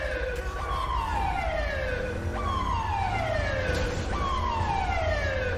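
A wailing ambulance siren in the video game GTA 5 sweeps repeatedly from high to low over a constant rumbling background, loud and continuous.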